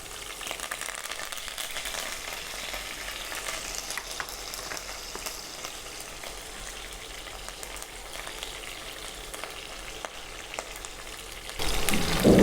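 Curry leaves and chopped green chillies sizzle in hot oil for a gongura curry, a steady dense crackle with occasional stirring, growing louder right at the end.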